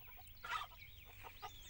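Farmyard hens give brief, faint clucks and a short cackle in a quiet children's cartoon scene, scattered across a couple of seconds with no talking.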